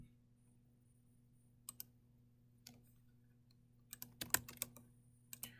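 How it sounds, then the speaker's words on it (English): Computer keys tapped at random during a CAD text-annotation demonstration, heard as sparse isolated clicks and a quick burst of several keystrokes near the end, faint over a steady low electrical hum with no talking. "I'm just randomly clicking on any keys here"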